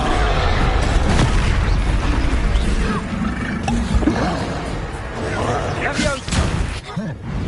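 Booming blasts from the Confringo fire spell in Hogwarts Legacy go off amid a noisy clash of thuds and rumbles, with a voice calling out over the din.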